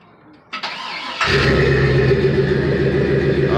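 A 1995 Chevrolet Silverado C1500 with a swapped 5.3 V8 cranks briefly on its new starter, then catches and settles into a loud, steady idle close by.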